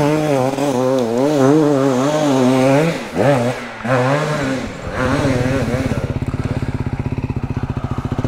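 An old-school petrol dirt bike engine revs loudly in uneven bursts up close, then settles into a rough, throbbing idle; a voice may be heard briefly.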